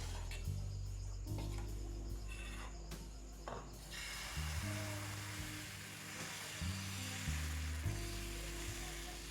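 Patisapta batter spreads on a ghee-brushed tawa with a soft, steady sizzle and faint scraping, low and continuous against a droning background hum.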